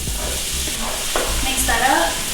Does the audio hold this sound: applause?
no